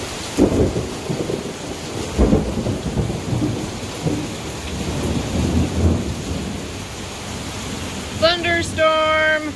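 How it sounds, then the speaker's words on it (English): A thunderstorm of heavy rain with rolling thunder rumbles sounds close and loud throughout, and a high whistling or squeaking sound rises briefly near the end. "Thunderstorm!"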